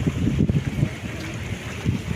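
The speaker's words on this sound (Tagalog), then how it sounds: "Nandito kami sa dagat." Steady wind and water noise by the sea, a constant low rumble with gusty buffeting against the microphone and no voices.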